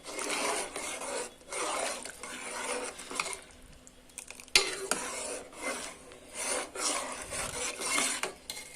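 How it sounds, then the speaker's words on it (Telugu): Spoon stirring lentil dal (pappu) in a cooking pot, heard as repeated rasping, scraping strokes against the pot in uneven waves with a brief lull midway, close and fairly loud, no talking. "బాగా కలపాలి, లేకపోతే ఉండలుగా కట్టేసిద్ది."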